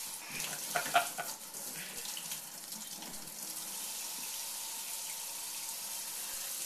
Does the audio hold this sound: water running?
yes